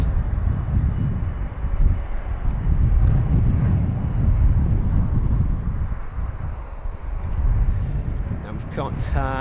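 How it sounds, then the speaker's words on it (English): A United Airlines Boeing 787 at Heathrow fills the air with a steady, broad jet roar that swells and fades slightly, heavily buffeted by wind across the microphone throughout. "Now we've got this aircraft here, the 787 of United Airlines, just a head-on shot with that."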